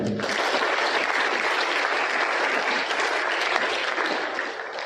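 An audience claps for students at a school Hindi model exhibition, the applause dense and sustained for several seconds before tapering slightly at the end, with no voices over it.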